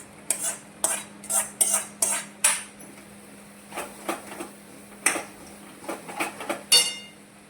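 Fried mushrooms go into a pan and are stirred, giving a series of sharp metallic clinks and scrapes of a spoon against the pan in an irregular rhythm over a faint steady hum, close and fairly loud.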